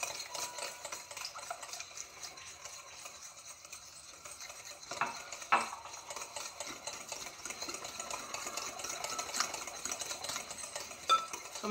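Apricot jam and oil being mixed for basbousa batter, a quiet steady scraping and whisking in a bowl with a few louder clinks of the utensil, no talking.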